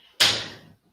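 A door opens for a grocery delivery, a single sharp knock-like bang or slam followed by a fading rattle, close and alone.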